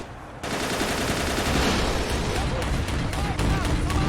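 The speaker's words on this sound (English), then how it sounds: "that 20mm is just firing to save its life" A 20mm gun keeps firing in a World War II battle in Men of War: Assault Squad 2, a dense, continuous roar of rapid shots and rumbling battle noise that starts abruptly and keeps going at steady loudness.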